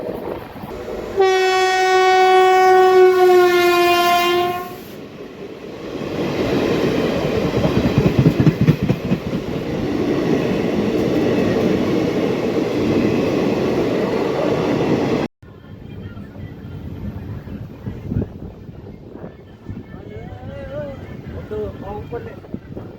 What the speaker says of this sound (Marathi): Howrah Pune AC Duronto express crossing